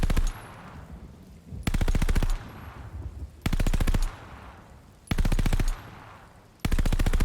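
DP 27 machine gun firing in the video game Call of Duty Vanguard, four loud rapid automatic bursts each lasting under a second, separated by quieter gaps of ambient game sound.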